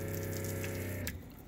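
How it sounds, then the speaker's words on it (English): Water runs steadily from a van shower fitted with an Italian-made mixer valve in a 2019 Mercedes-Benz Sprinter 4x4 camper conversion. The flow is a close, even hiss that stops abruptly just before the end. "we got the water fill, and we got the mixer valve and the shower"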